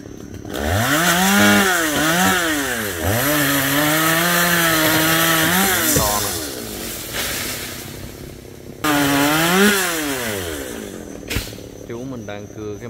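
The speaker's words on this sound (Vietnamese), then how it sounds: "máy cưa đó là máy cưa G375 này" G375 chainsaw cutting a melaleuca tree outdoors, loud and close, its engine repeatedly revving up and bogging down under load in long cutting bursts, with brief idle pauses between cuts.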